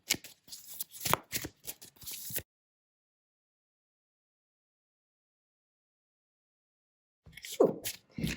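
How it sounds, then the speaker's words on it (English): Tarot cards riffle-shuffled in close, crisp bursts of rapid flicking, then a long silence before another short shuffle starts. "It's really nice and shuffled"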